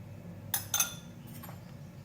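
Chicken being mixed with egg, cornflour, black pepper and salt in a bowl, giving two quick clinks of a utensil against the dish, then a softer tap, close and fairly quiet.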